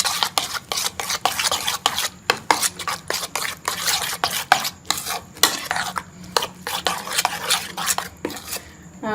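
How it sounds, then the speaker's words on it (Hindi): Egg batter with green chillies, onion, salt and red chilli powder is stirred briskly in a bowl for omelette paratha, producing rapid, rhythmic scraping and clinking strokes up close, with no voices. "इन सारी चीज़ों को अच्छी तरह से मिक्स कर लेंगे"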